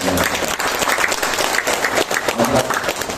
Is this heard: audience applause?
yes